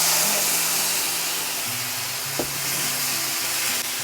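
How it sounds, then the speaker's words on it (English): A tomato mixture sizzles against golden-browned rice in a pan, giving a steady broadband hiss that stays constant throughout with a brief clink partway through; no one speaks. "just stir it like this so the flavors can come in together really nice as it sizzles"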